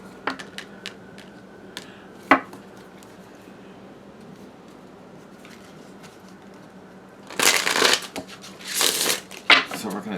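Tarot cards being cut and shuffled, with a few scattered riffles and taps early on, then dense, louder bursts of card shuffling near the end.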